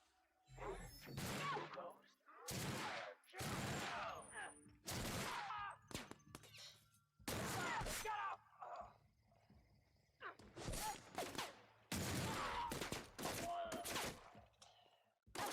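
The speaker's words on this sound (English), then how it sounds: "That's machine gun." Bursts of automatic gunfire from a machine gun in The Outer Worlds, a sci-fi video game, arriving in repeated loud volleys of a second or so each with short gaps between, spread across the whole stretch.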